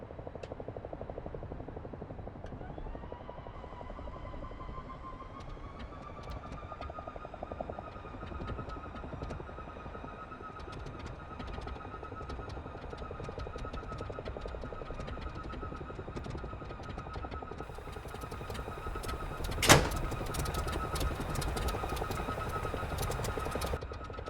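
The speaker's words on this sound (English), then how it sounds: "Now we need to make sure the engine is running smoothly" A P-51D's piston engine in the DCS flight simulator turns over and settles into a steady, loud droning run. The rough idle rises in pitch early on, and a sharp click or pop comes near the end.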